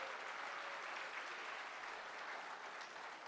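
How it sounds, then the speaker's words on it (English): A ballroom audience at a scholarship and awards gala gives a round of applause, dense, even clapping sustained throughout with no speech over it. "So please join me in a round of applause for their dedicated efforts on behalf of APAA."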